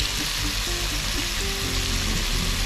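Shrimp paste (bagoong) goes into cooked tomatoes for pork binagoongan in a backyard kitchen, giving a loud, steady sizzle and frying hiss throughout with faint clinks. No one talks.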